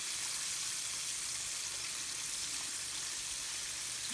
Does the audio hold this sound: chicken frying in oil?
yes